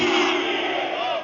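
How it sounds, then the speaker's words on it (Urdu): A large crowd at a religious gathering roars the slogan Nara-e-Haidari in unison, one loud sustained shout that holds for about a second before tapering off. "اٹھا کے بولو ہاں نعرے حیدری"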